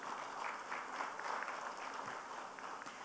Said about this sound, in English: can we please applaud and welcome our moderator on stage?